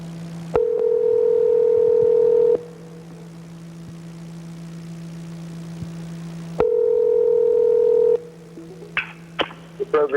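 A telephone dial tone sounds steadily for about two seconds, then a second ring burst follows several seconds later, with a call placed from a phone inside a truck; faint clicks and handling noise follow at the end.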